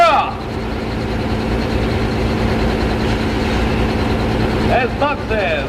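Heavy tractor engines idle and rumble steadily at a tractor pull, a loud, continuous low drone with a revving swell near the end, while people talk over it.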